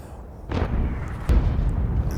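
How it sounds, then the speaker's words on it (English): Tank cannon fire in the World of Tanks video game, two heavy booming shots about a second apart, each with a sharp crack and a rumbling tail, loud and with no talking over them. "and Katz puts a blind shot into the easy 8"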